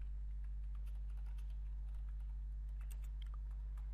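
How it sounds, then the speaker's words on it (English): Keys on a computer keyboard are tapped in irregular quick bursts, close and fairly quiet, over a low steady background hum with no talking. "I'm just typing"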